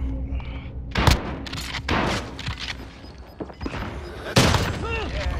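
Bursts of gunfire and explosion booms in a battle royale shooter game, duo against quads, with loud irregular blasts and cracks at about one, two and four and a half seconds over a busy mix of game effects.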